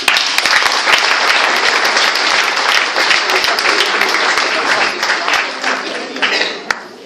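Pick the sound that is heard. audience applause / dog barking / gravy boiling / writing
audience applause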